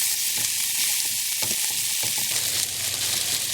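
Sardine bhorta with fresh coriander sizzling steadily in a hot pan as it is stirred, a dense continuous fry hiss with soft scraping strokes of the spoon, close and unbroken.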